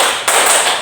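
A single sharp hand clap rings out, close and loud, with a quick bright decay.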